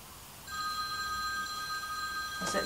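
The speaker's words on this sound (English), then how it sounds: "Is that your phone?" A telephone rings with a steady electronic bell tone lasting a couple of seconds, fairly clear and close, in a quiet room where dressmaking is underway, with a brief knock near the end.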